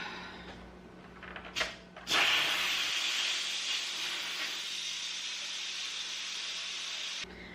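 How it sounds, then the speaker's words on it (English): An Instant Pot doing a quick pressure release with a towel draped over the vent, a short sputter and then a loud, steady hiss of escaping steam lasting about five seconds before it cuts off abruptly. "I always just throw a towel over it because you're going to get a lot of steam and a lot of condensation"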